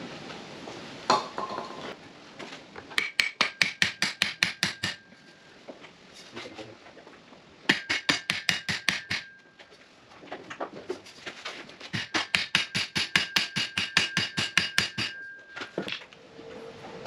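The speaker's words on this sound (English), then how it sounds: "I just bashed that on with the copper hammer" Rapid bursts of sharp metallic copper hammer strikes on a Commodore driveshaft flexible coupling ring out in several rounds, each series of quick blows separated by short pauses, close and loud.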